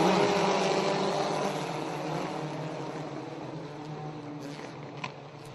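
Ministock race cars at the start of a heat race on a short oval roar together in a dense, steady engine drone that eases slightly as the pack pulls away, with no voices.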